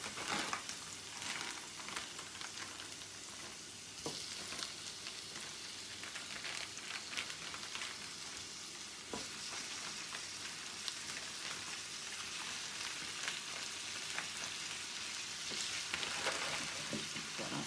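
Hamburger meat browns in a pan for a casserole, sizzling softly and continuously with scattered crackles and occasional stirring scrapes, faint and close with no talking.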